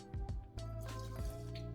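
A small splash of water is poured into tahini sauce, giving soft dripping and liquid trickles over a steady low hum. The sound is close and faint.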